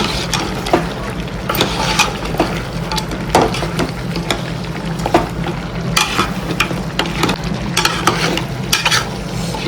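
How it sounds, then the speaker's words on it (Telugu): Mutton head curry being stirred in a pan with chili powder, a continuous scraping and sizzling with frequent sharp spoon-on-pan clacks throughout. "కారం అంతా ముక్కగా పట్టేటట్టు బాగా తిప్పుకోవాలి."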